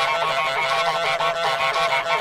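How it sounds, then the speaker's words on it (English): A cartoonish goose from Untitled Goose Game, a video game, honks in a rapid run of nasal, repeated calls, loud and steady with no talk over it. "it just sounds like a goose."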